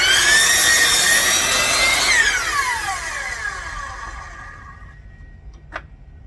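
A miter saw cuts a wood piece to length, its blade whining loudly and then spinning down in a long, falling hum that fades out, with a short knock near the end.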